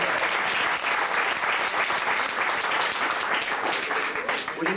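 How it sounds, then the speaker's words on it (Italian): A theatre audience applauds the prompters of a stage play, an even, continuous roar of many clapping hands, moderately distant and unbroken throughout. "facciamo un applauso anche per loro"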